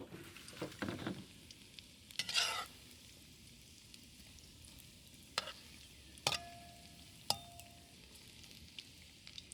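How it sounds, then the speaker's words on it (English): Chicken deep frying in oil for Korean fried chicken, a faint steady bubbling sizzle with occasional scraping stirs and a few sharp clicks and taps from utensils. "I let it deep fry for a few minutes."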